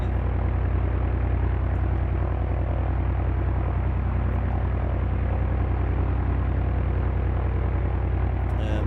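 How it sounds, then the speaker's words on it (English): A propeller aircraft engine drones in the X-Plane 11 flight simulator game, a loud, steady, unbroken hum that holds an even level throughout with no voices. "I hope the sound of the plane isn't overbearing"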